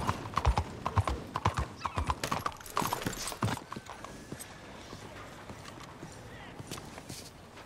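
Horse hooves clip-clop sharply in Red Dead Redemption 2, a quick cluster of loud, close strikes that thins into softer, scattered steps with faint movement noise.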